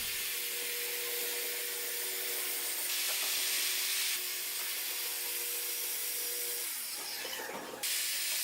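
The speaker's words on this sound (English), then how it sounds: "clamp down a 2x4 instead, and run your saw against it so it gets nice and straight. Just cut slowly." A power saw cutting slowly along a 2x4 clamped down as a straight guide while building arcade cabinet panels: a loud, continuous, steady whine and rasp with no pauses, shifting in tone near the end of the cut.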